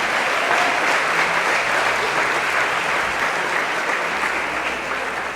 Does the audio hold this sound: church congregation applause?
yes